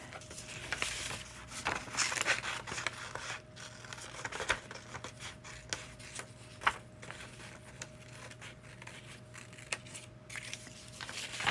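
Scissors snipping through paper at close range, a series of soft irregular crisp cuts and rustles, quiet and without talk.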